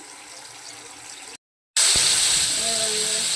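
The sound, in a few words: spice paste frying for bhetki fish kalia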